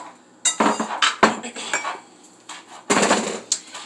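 A utensil clatters and scrapes against a pan while onion and garlic sauté, a few loud clinking bursts separated by quieter gaps, close up with no voices.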